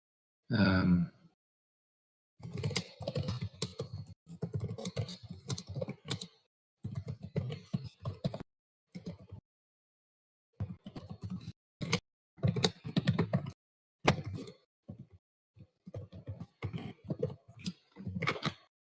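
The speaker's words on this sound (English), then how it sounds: "The intense typing." Someone types intensely on a computer keyboard during a tabletop role-playing game session, in close, rapid bursts of keystrokes broken by short pauses, after a brief vocal sound at the start.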